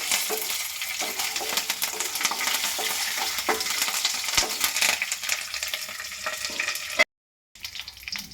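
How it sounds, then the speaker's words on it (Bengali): Curry leaves frying in a pan and being stirred, giving a close, crackling sizzle with scraping strokes that runs steadily and then cuts out briefly near the end, with no talking. "এখন কিন্তু কারি পাতাটা অনেকটা ভেজে নেওয়া হয়ে গেছে। একবার আমি নেড়ে দিচ্ছি।"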